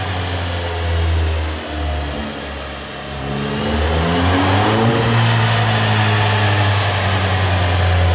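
A VW Golf 7 R fitted with a new HG Motorsport exhaust revs up close by, its engine note swelling, dipping, then climbing to a steady, loud roar with no talking over it.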